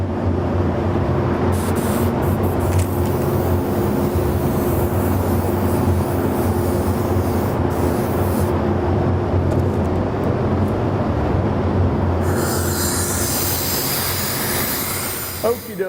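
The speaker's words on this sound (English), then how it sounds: "let me turn the booth back on, and I will get about 4 coats on the same number of coats for good coverage on this" Paint spray booth running steadily with a constant broadband fan roar, candy yellow coats being sprayed, the noise continuous and loud throughout with a brighter hiss toward the end.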